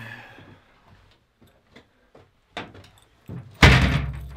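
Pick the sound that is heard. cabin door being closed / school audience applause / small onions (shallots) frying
cabin door being closed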